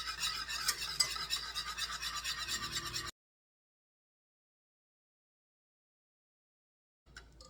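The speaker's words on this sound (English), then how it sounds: "just gonna stir this up, whisk it up, make sure it's all completely combined" A whisk beats a mixture for mini lemon tarts, a busy scraping clatter against the bowl for about three seconds, then silence, with a brief faint noise at the end.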